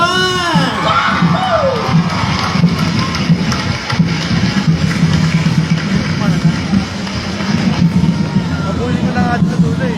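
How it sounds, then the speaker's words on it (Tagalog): A street parade crowd cheers and shouts loudly and continuously at a civic festival in Barangay Palatiw, Pasig, with children's voices and traffic-like rumble mixed into a dense, steady roar. "Barangay Palating sa malakas na hiyawan"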